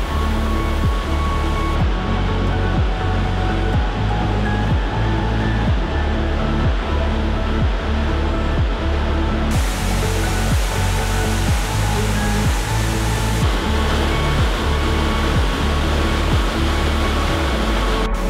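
A loud, constant roar of rushing water from a waterfall in the Jura, dense and unbroken, close enough to feel the spray, with no voices.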